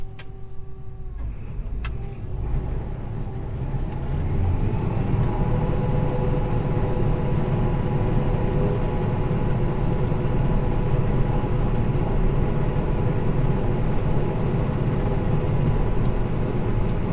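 Combine harvester picking corn, a steady loud machine drone with dense low rumble that builds after the first few seconds and holds continuously, with no talking.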